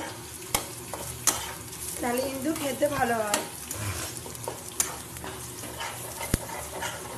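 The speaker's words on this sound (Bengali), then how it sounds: "এখানে কালো জিরে ফোড়ন দিয়ে একটু তেল বেশি লাগে ভাজা ভাজা করতে" Kharkol leaves fry in plenty of oil tempered with nigella seeds, giving a steady sizzle broken by sharp scrapes and taps of a stirring spoon, with a short spoken remark and a dog-like whine partway through.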